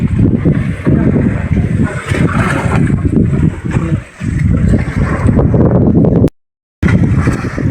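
Strong wind roars and buffets continuously at sea aboard a tuna fishing boat, with a low engine hum beneath, ending in a brief dropout.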